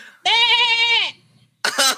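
Goat bleating loudly up close, one long wavering harmonic call followed after a short gap by a second harsher bleat.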